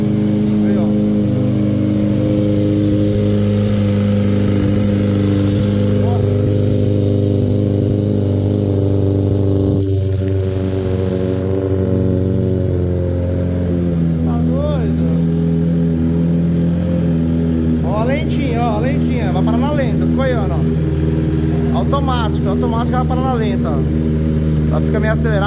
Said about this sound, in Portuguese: Acelerada, porque é a primeira partida do dia, partida fria.